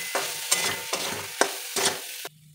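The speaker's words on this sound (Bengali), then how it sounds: "মশলাটা ভালো করে কষিয়ে নেব।" Spice mixture being stir-fried with boned fish and mashed potato for fish cutlets: repeated spatula scrapes and stirring strokes over a steady close sizzle, about five strokes, ending abruptly in quiet.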